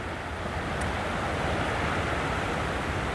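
Steady wind and surf at the water's edge make a dense, unbroken roar with no distinct wave breaks, continuous and fairly loud throughout.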